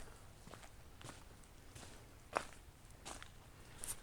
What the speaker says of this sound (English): Probably heard my footsteps